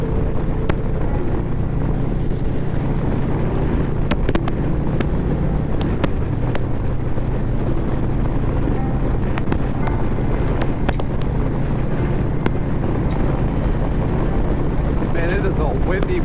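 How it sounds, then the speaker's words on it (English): Heavy wind buffeting roars across the microphone on a moving motorcycle, continuous and loud, with engine rumble underneath. "I'm getting a ton of buffeting, and it's just brutal with this wind."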